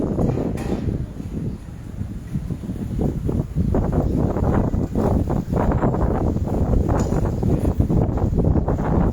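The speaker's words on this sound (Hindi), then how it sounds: "बहुत तेज हवा चल रहा है।" Strong wind blows outdoors during a live online session, buffeting the microphone with continuous low rumbling gusts. The gusts surge and fade unevenly, loud and close throughout.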